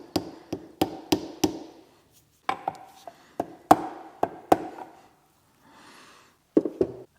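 A 1.5-inch socket used as a seal driver is hammered to drive an axle seal into a clapped-out Evo 8, giving sharp metallic knocks in quick bursts separated by brief pauses, close and loud.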